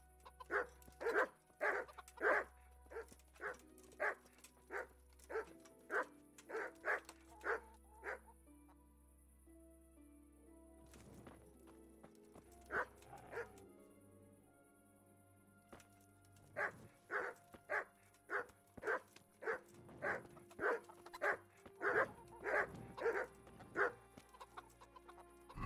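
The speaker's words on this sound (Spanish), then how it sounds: "Hostia, los perros." Dogs barking in the medieval game Kingdom Come: Deliverance, repeated sharp barks in rapid bursts, fairly close, separated by a quieter stretch.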